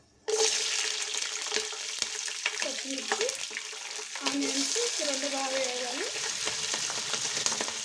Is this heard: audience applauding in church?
no